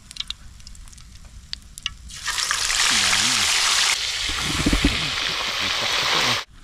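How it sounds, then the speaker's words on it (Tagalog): Food sautéing in a hot pan before broth is added, which includes fish heads, a loud steady sizzle bursting on after a quiet start and continuing with stirring scrapes until cutting off abruptly. "Igisa po natin bago natin sabawan."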